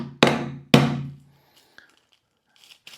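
Cadbury Mini Eggs in a bag get bashed into pieces with two heavy, resonant thuds close by, a short pause after each. A few faint rustles and small taps follow, with no talking.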